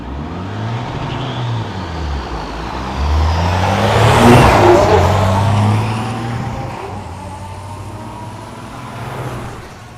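A 1999 Kenworth diesel truck accelerates hard at a diesel drag race in Texas, its engine climbing in pitch as the revs rise, then swelling into a loud roar that fades as the truck pulls away.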